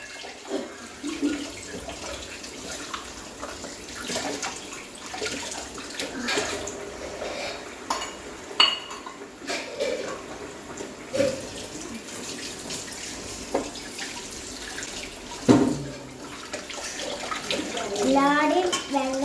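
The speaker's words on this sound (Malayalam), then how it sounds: "പാത്രം എന്ന് പറഞ്ഞാൽ കുറച്ച് കഴുകി വെച്ചു." Tap water runs steadily while dishes are washed with soap, with splashing and occasional clinks of utensils, and voices can be heard talking over it.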